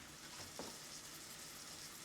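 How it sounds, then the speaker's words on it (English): Onions fry in a pan for shakshuka pizza and are stirred now and then, giving a faint, steady sizzle with a soft scrape midway and a louder scrape at the very end. "I'm gonna stir mine around a little bit and make sure all these onions get cooked."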